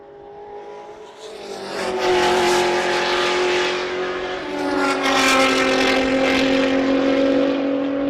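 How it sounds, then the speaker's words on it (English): A Nissan GT-R race car at Road Atlanta during a time attack session, heard on the back straight warming its tires: a loud, sustained engine drone that rises and falls in pitch as it accelerates and passes nearby. "here we have a Nissan GTR on the back straight, warming up the tires, getting ready"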